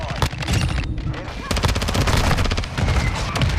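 Rapid bursts of gunfire from a Call of Duty match crackle loudly almost nonstop, with dense automatic volleys and a brief lull before firing resumes; players talk over it.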